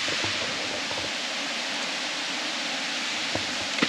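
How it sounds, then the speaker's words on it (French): Steady broadband rush of a waterfall pouring inside a cave in Colombia, a continuous even roar with no gaps and no talk over it. "c'est la seule cuve ou caverne où il y a une cascade à l'intérieur"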